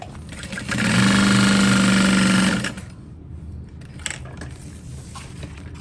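A sewing machine stitching a backpack seam runs in one loud, steady whirring burst of rapid needle strokes for about two seconds, then stops, leaving faint handling noises.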